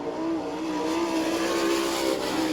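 A sprint car on an All Star Circuit of Champions qualifying lap at Abbottstown, Pennsylvania, its engine holding a steady, loud, high-pitched roar throughout with no break or pause.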